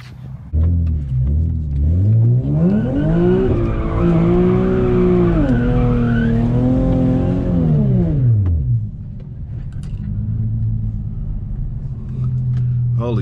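An Infiniti G37 doing a big burnout: the engine revs hard with rising and falling pitch over a loud, continuous tire squeal, then drops to a rough idle rumble, all close and loud.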